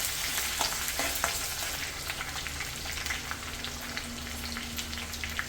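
Curry leaves and ginger frying in ghee for kara ghee pongal, giving a dense, steady crackling sizzle close up with scattered sharp pops and faint stirring scrapes, no talking.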